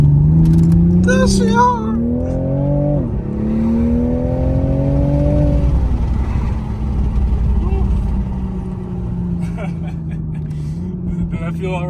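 Toyota Supra engine revving and climbing in pitch as the car accelerates, then settling into a steady drone, heard up close from inside the cabin while a person speaks briefly over it.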